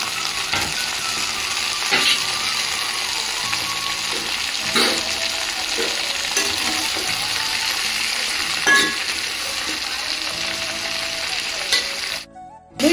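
Tomatoes, green chilies and garlic frying in a pan for Telugu roti pachadi, a loud continuous sizzle up close with a few sharp spatula clicks and stirs, no talking, ending with a sudden drop.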